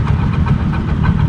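A Harley-Davidson SuperLow motorcycle, sharing the Iron's engine, runs with a steady, close, loud low rumble that holds evenly throughout with no talking.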